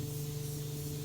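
A spray gun lays a wet coat of metallic paint on a Jeep Cherokee during a cut-in and blend repair, giving off a steady, close, continuous hiss.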